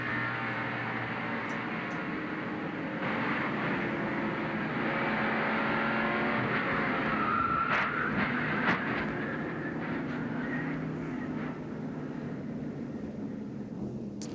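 A 1988 NASCAR Winston Cup stock car's engine roars steadily from inside the cockpit during the Delaware 500, a loud sustained drone with shifting pitch and brief rattles, no voices present.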